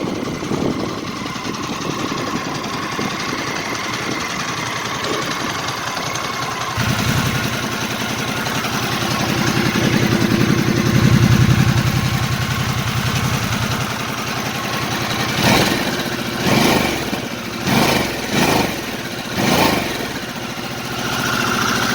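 A 2021 Harley-Davidson Sportster S 1250 motorcycle engine runs steadily, swelling louder midway through, then ends in several short revving bursts, heard alone with no talking.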